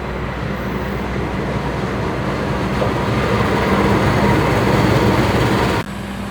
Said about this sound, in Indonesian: Ini lagi ada langsiran lokomotif